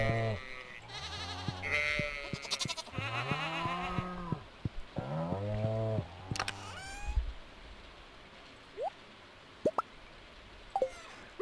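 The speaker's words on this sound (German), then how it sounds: "Diese fetten Schafe." Sheep in the farming game Stardew Valley bleat loudly in a rapid series of wavering calls, followed by a few short plopping game sound effects in a quieter stretch.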